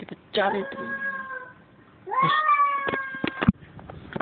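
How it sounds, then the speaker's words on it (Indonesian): Cats fighting and caterwauling at an abandoned house, with two long, loud, wavering yowls separated by a short pause and scattered clatter, under a voice speaking. "Astagfirullah, ada kucing berantem guys."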